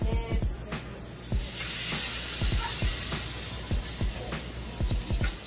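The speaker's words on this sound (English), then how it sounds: "Now it's gonna make a sizzle" Hot water and boxed seasoning poured into a hot pan for brown butter shrimp raise a loud, continuous sizzling hiss, broken by frequent crackles and pops close by.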